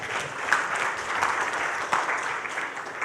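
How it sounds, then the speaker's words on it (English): An audience at an international development cooperation conference claps steadily and warmly after a keynote speech, a dense, even patter of many hands filling the whole stretch. "One more round of applause."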